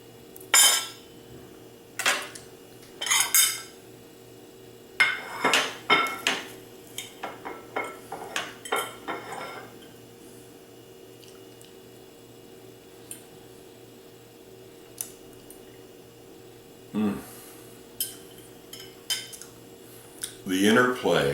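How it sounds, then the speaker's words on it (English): Knife and fork cutting a piece of apple Dartois puff pastry on a plate, with scattered clinks and scrapes of cutlery against the dish in the first half, then mostly quiet with a few later taps. "So I'm going to cut a little piece here."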